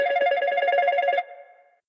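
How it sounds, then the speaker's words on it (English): Ringtone sound effect in a sci-fi horror audio drama, a single electronic ringing tone with a fast trill held for just over a second, then a short fading tail, with no talking. "A sound, muffled, small, faint and distant, like a ringtone heard through drywall and concrete."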